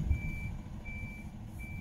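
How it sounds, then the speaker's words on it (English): Recycling trucks at a recycling plant in Abermule, Powys, with a reversing beep repeating steadily at intervals over a loud low rumble of truck engines nearby. "So there we have all of the recycling trucks there coming in to be emptied and sorted."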